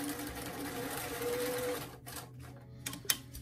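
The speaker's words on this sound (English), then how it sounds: "We're gonna go ahead and sew that second shoulder seam" A sewing machine stitches the shoulder seam of a BJD doll shirt in a steady run that stops partway, followed by a few quiet handling clicks and a sharper knock near the end.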